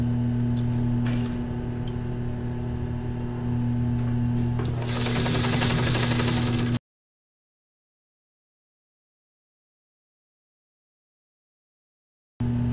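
A sewing machine runs steadily while stitching the seam of a bikini, the hum continuous for several seconds before the clip drops to silence, then resumes briefly at the very end.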